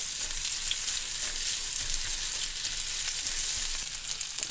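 Food sizzles and crackles in a frying pan on the stove, a steady close-up hiss with no pauses and no one speaking.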